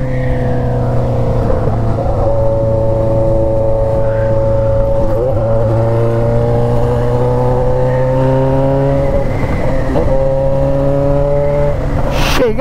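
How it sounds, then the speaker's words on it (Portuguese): A Yamaha XJ6 motorcycle fitted with an Atalla straight-pipe 304 stainless steel exhaust and Fuel Tech tuning idles and cruises close by, a steady loud engine drone with a few brief throttle changes and shifting pitch throughout. "Cachorrinho assusta com o barulho da moto."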